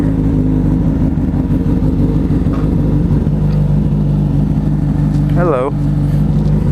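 A Suzuki GSX-S 1000 motorcycle idles loudly and steadily as its engine warms up, a close, constant rumble throughout, while a voice briefly speaks a greeting.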